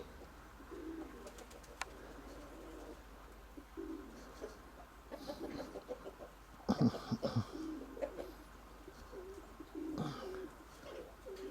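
Pigeons coo softly at a distance in an outdoor setting with a hawk nearby, a few low murmuring calls rising through steady background hiss, with a brief louder burst of flapping and calls midway.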